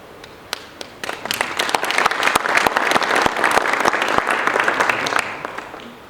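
An audience at a pension funds talk in Botswana breaks into applause: sharp individual claps at first, swelling into a full, dense round of clapping, then thinning out toward the end.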